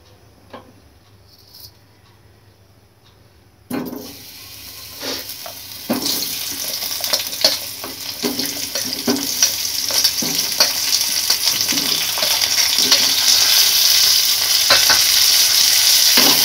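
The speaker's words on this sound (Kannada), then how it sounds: "ಈರುಳ್ಳಿ, ಬೆಳ್ಳುಳ್ಳಿ, ಶುಂಠಿ ಇಷ್ಟನ್ನು ಕೂಡ ಚೆನ್ನಾಗಿ ಫ್ರೈ ಮಾಡ್ಕೊಳ್ಳೋಣ" Onion, garlic and ginger fry in hot oil in a pan, starting with quiet sparse stirring, then a sizzle that grows steadily louder and denser, punctuated by scraping stirs.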